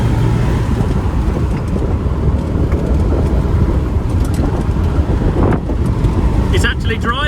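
Land Rover Defender 90 on the road after a full rebuild, a steady engine drone and road rumble with wind buffeting throughout, a voice talking over it near the end.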